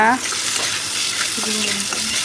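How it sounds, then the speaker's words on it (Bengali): Pieces of katla fish fry in hot oil in a wok, making a steady, close sizzle and crackle throughout. "একে একে মাছগুলি ছেড়ে দিলাম কড়াইয়ে"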